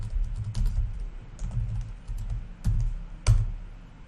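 Code is typed on a computer keyboard in close, irregular bursts of keystrokes, with a few sharper clacks standing out among the softer taps.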